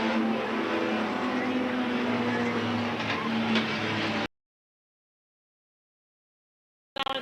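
Race cars at Eugene Speedway in 1992 coming out of the fourth turn, their engines a loud steady roar with rising and falling pitch. Cut to silence partway through, then the roar briefly returns.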